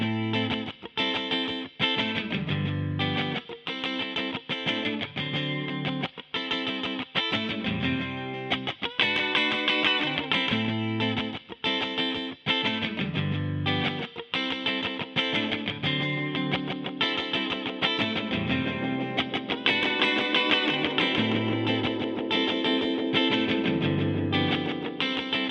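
Electric guitar played through an effects unit with an echo setting, distorted chords and notes ringing continuously with repeating trails for the whole stretch and no talking.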